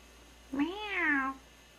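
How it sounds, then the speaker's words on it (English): A single quiet cat meow, rising then falling and drawn out for under a second, heard alone against a still background. "Take care of my Michu kitty."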